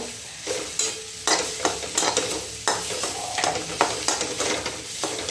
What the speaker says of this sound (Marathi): हळद हे मसाले टाकून दिलेले आहे त्यांना छान असं छान परतून घेते